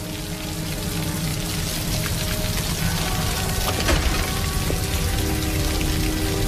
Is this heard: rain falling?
yes